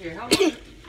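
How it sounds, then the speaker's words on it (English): A short, sharp sneeze bursts out once amid nearby talking, with a voice speaking before and after it. "You just sneezed on your gloves"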